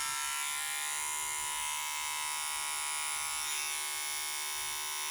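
A Zaza De Luxe corded/cordless rechargeable hair clipper runs at its top setting, giving a steady, close electric buzz with a constant hum and no break, alone without speech.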